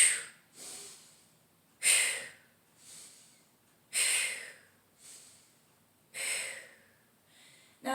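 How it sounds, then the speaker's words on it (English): Sharp, forceful breaths are pushed out during an ab exercise, bursts coming in a steady rhythm roughly once a second, close to the microphone in an otherwise quiet room. "As you squeeze, squeeze your breath out."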